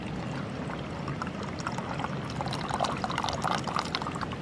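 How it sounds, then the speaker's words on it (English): Brewed Honduras organic coffee is poured into a cup at a sub-zero wild camp in the Yorkshire Dales, a steady close trickle that grows a little splashier toward the end, no talk. "I'm just going to pour myself a nice cup of Honduras"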